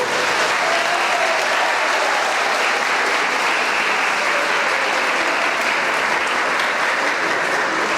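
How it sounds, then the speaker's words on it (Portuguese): Strong, continuous applause fills a hall at a diocesan formation gathering, a thick, even roar of many hands clapping for a prayer group with no pause. "Dá uma salva de palmas bem forte para o seu grupo de oração."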